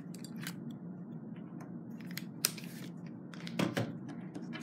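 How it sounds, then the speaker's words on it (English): An SD card comes out of a Nikon D5600 camera with a few small, sharp plastic clicks and a soft sliding snap, close and quiet against a faint background hum. "So I'll remove the SD card from my camera."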